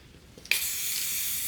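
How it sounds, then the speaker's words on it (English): After a short quiet pause, a can of spray adhesive bursts into a continuous hissing spray that holds steady to the end. "You can do spray adhesive,"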